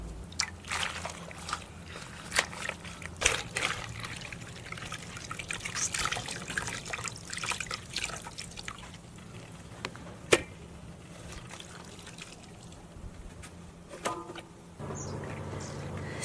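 Pickled sauerkraut rinsed under running tap water in a home kitchen, with steady trickling and splashing plus scattered sharp clicks and knocks, moderately quiet throughout.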